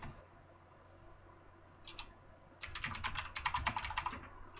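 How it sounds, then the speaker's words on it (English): Typing on a computer keyboard, up close and fairly quiet: a brief burst of clicks, a pause, then a quick continuous run of keystrokes. "Sorry, I was typing."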